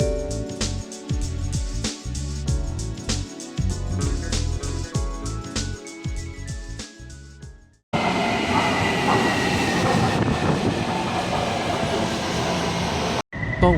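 A Taipei MRT metro train rumbles and clatters along the track with a loud, continuous roar, rhythmic wheel clicks and tonal motor whine in the first half, then a cut to a steadier, broadband onboard roar.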